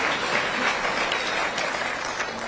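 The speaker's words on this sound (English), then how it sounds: "Please give me a clap." Steady applause from a crowd, a continuous wash of clapping lasting a couple of seconds with no talk over it.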